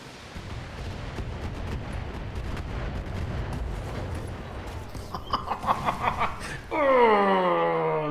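Short-range missile salvo firing in the mech combat game BATTLETECH: a dense rumbling barrage of rapid launches and blasts, followed by a sharp rising synthetic tone near the end.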